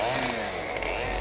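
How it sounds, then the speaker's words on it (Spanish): Chainsaw runs at a steady high-revving drone, loud and close, with no pauses across the short stretch. "Usando la motosierra, Crafts desmembró el cuerpo congelado de Hale"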